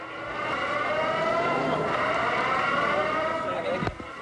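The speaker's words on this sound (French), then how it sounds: "Seules des sirènes au loin rompent le silence." Sirens wail in the distance after the 9/11 attacks in the United States, rising and falling steadily through the quiet for several seconds, with a short sharp sound near the end.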